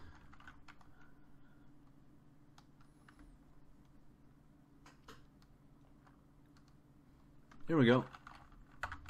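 Quiet, irregular clicks of a computer keyboard being typed on during a typing game, soft and close, with a person speaking briefly and a short loud burst of voice near the end.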